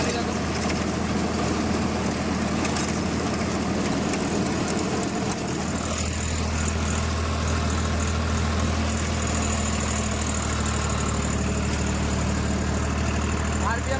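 A Swaraj 744 FE tractor engine runs steadily while driving a rotavator through soil, a loud continuous low rumble that deepens and settles about halfway through, with someone talking over it.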